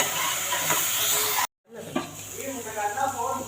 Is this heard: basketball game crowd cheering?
no